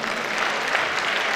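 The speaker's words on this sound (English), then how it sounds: "A round of applause." Audience at a national scientific conference applauding after a welcome address, with dense, continuous clapping filling the room at steady loudness.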